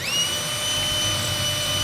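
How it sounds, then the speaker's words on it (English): A power drill boring a pilot hole down through wood for lag screws in a model railroad train room, a steady high-pitched motor whine held at constant speed, close and continuous. "I'm gonna drill me a pilot hole"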